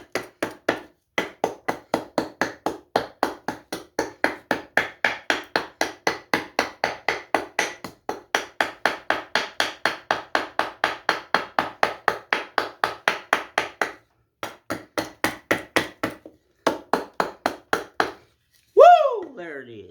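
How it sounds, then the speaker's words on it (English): Steady run of sharp chisel taps on a cedar wood leaf carving, dozens of quick strikes in a regular rhythm with short pauses, close and fairly loud, ending in a brief louder knock. "Try to get into the chisel work."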